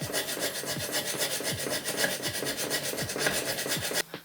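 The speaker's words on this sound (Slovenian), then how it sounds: "Tole brušenje je kar predolgo" Someone hand-grinds a part with quick, regular back-and-forth rasping strokes, close and rhythmic, that stop abruptly near the end.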